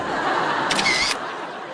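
A camera shutter fires once, a brief bright mechanical snap over a soft background hiss, close and fairly loud.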